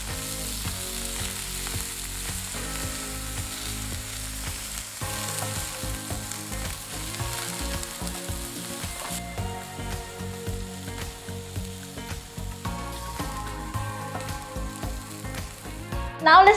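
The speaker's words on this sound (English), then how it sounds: "I will sear these rolls just for a few seconds to have a slightly brown on each side." Stuffed cabbage rolls sear in a hot pan, giving a steady, close crackling sizzle with light stirring and scraping throughout.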